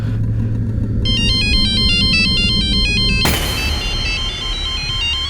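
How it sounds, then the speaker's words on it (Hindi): A phone rings insistently with a repeating electronic ringtone melody, then switches abruptly to a brighter, denser tone partway through, all over a low rumbling background in a tense crime drama scene. "तुम्हारा फोन बज रहा है"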